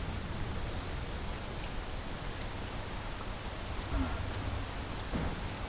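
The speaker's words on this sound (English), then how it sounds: "Oh geez, the rain's super thick." Heavy rain pours steadily in a video game, a dense continuous hiss close up with a faint low rumble near the end.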